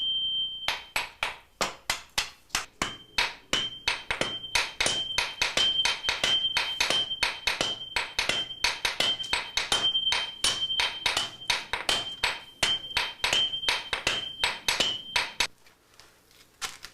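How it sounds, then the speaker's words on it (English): A Japanese swordsmith's hammer beats steel on an anvil while forging a sword. Dozens of sharp metallic blows land in a quick, steady rhythm with a bright ringing tone, then stop near the end. "The commands of the swordsmith's hammer is all that is required."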